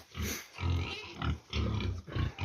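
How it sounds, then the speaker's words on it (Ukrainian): Piglets grunt in quick, rhythmic bursts close by, low snuffling noises repeating steadily as they feed. "Поросятка їдять конфетки."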